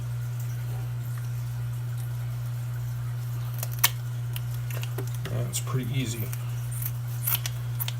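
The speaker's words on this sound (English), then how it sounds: "So what I do is I just clip these off with the scissors." A few quick snipping clicks of kitchen shears cutting through trout fins, close by, mixed with speech and a steady low hum.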